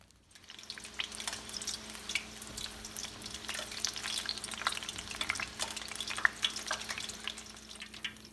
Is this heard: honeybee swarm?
no